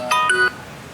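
A telephone rings for an incoming call on a live show, a single short electronic ring burst lasting under half a second, loud and clear with no talk.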